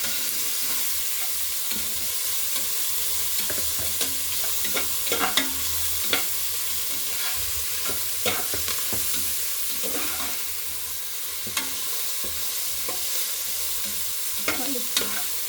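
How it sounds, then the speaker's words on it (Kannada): Vegetables for pulao fry over a high flame in a pan. A constant sizzle is broken by repeated scraping clicks of a utensil stirring them, close up and without talk. "ಎಲ್ಲ ಫ್ರೈ ಆಗ್ತಾಯಿದೆ."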